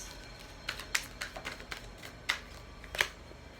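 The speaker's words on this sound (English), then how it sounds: "Let's keep pulling cards." Tarot cards pulled from a deck, a series of soft papery slides and flicks in an irregular rhythm, close and quiet with no talk.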